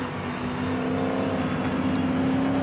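Superstars Series race cars at the Vallelunga circuit make a sustained, loud engine drone with a steady pitch that holds for the whole stretch.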